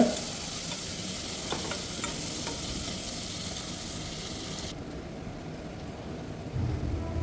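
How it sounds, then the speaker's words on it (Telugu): Onions fry with salt in a pan until browned for a Hyderabad goat leg paya, a continuous dense sizzle heard up close, steady throughout, with no voices. "ఇవి కొంచెం బాగా బ్రౌన్ కలర్ వచ్చేదాకా ఫ్రై చేద్దాం"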